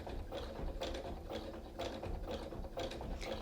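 A sewing machine zigzag-stitches coiled rope into an oval basket, a close, steady mechanical chatter of rapid needle strokes in short runs with brief pauses.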